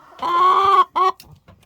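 A rooster in a noisy backyard flock gives a loud, close, drawn-out crow followed by a shorter second note, then a few faint clucks.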